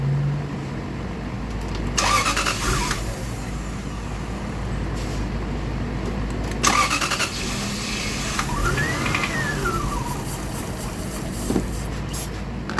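A Lexus GS400 with a cranking-and-stalling fault turns over in two short starter bursts, then a brief rising and falling engine note fades as it stalls, over steady background hum.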